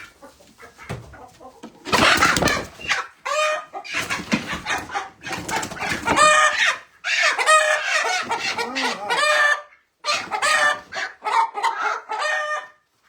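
Chickens cluck and squawk almost continuously nearby, several birds overlapping, with brief pauses and a crow-like call mixed in.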